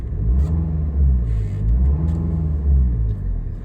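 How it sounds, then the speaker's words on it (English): A 2014 Mini Paceman Cooper SD with a 2.0 diesel engine revs up, its deep rumble swelling and easing in two or three close, steady surges with no talking. "I'll give it a rev."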